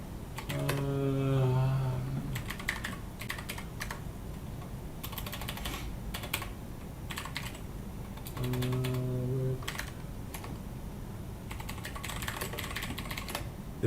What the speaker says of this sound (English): Doesn't that sound like a really cool keyboard, right?